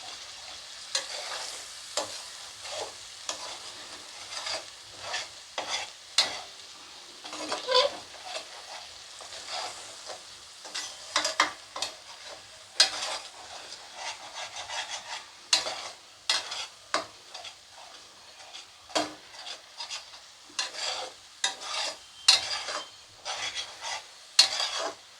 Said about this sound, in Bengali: এটাকে আমি একটু ভালো করে কষে নিচ্ছি।